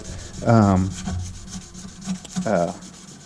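A knife blade being hand sanded, working along the plunge lines to remove belt-finish scratches; two louder squeaky rasping strokes stand out close up, with quieter rubbing between them.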